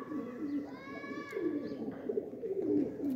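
Pigeons coo in soft, repeated throaty phrases close by, with a higher chirping bird call briefly over the first second or so.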